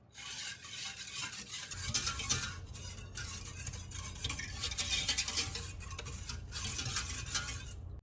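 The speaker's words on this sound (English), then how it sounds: "I'm whisking the milk and the sugar" Milk and sugar whisked in a pan for custard sauce, a brisk rapid scraping and swishing of wire against metal, steady and close, with brief pauses in the strokes.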